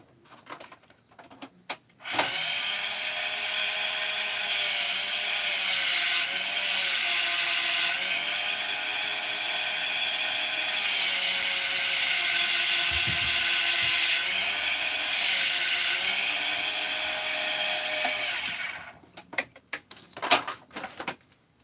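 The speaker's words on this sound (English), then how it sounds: "So I'm just going to use my Dremel again to do that." A Dremel rotary tool cuts a couple of slots into a small insert, giving a steady high-pitched whine that runs close and loud for about sixteen seconds, its pitch dipping briefly as the bit bites, then stopping.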